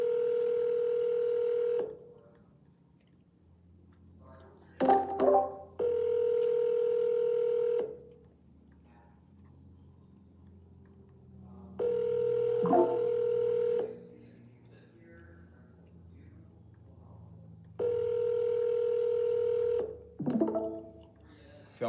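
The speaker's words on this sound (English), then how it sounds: "Vanessa, just answer the phone" An outgoing phone call to a for-sale-by-owner home seller rings back with a low steady tone in roughly two-second bursts separated by longer pauses, four rings in all, with short bits of voice in some gaps.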